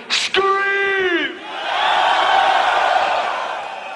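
A large audience at a live Scooter show in Berlin in 2008 breaks into a long roar of screaming right after a short amplified shout, the crowd noise swelling and then slowly fading.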